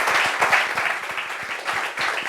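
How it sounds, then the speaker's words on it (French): An audience applauds at a meeting, with brisk continuous clapping from a group, fairly loud and even, with a slight dip in the middle. "Ah, applaudissements."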